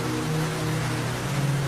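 Heavy rain pours steadily in a constant wash of noise without pause.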